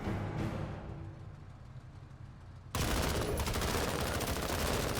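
Dense, loud bursts of gunfire erupt abruptly in the sci-fi tactics game Menace after a quieter stretch, continuing as a close, steady barrage to the end.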